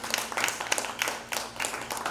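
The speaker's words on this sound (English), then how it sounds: "Can we get one more round of applause for all our participants?" A debate audience applauds its participants with a short burst of dense, steady clapping that fills the room.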